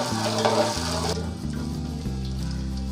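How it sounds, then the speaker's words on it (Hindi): Ginger garlic paste fries in a pan for a green chana pulao, a soft sizzle under a low, steady hum, the hissing fading to quieter crackle partway through. "फ्राई करूँगी थोड़ा सा"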